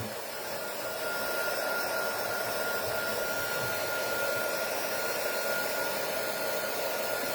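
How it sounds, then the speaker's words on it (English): A heat tool runs steadily while drying paint or stencil medium on a handmade Christmas craft tag, a loud continuous blowing whir that starts within the first second and holds unbroken, with no talking. "You can apply or like hold the heat tool a little bit close to it"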